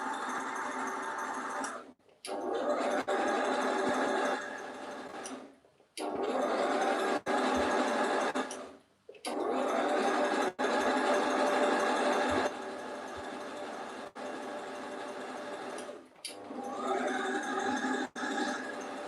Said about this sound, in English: I'm going to sew as close to the stitch line as I can.